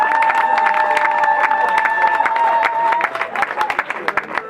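Wedding guests applauding and cheering as a father stands, dense lively clapping with shouts and a sustained tonal voice or music above it, thinning into scattered claps near the end.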